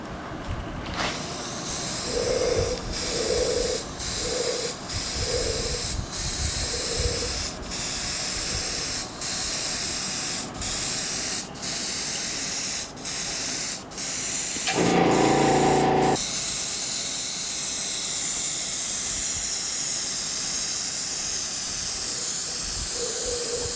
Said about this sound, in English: water-based lacquer that I'm going to be spraying on it will soak in